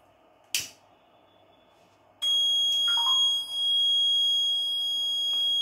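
An ESP8266-based IoT fire detector's alarm sounds as a loud, steady high-pitched electronic tone that switches on abruptly after a sharp click and keeps ringing without pause, close by.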